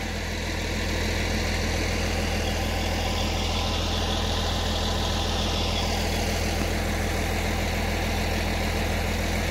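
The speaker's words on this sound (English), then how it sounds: "Letting the tractor cool down while I wait for my ride." A tractor engine idles steadily nearby in a hay field after baling, a constant low rumbling drone that holds at the same level throughout without revving.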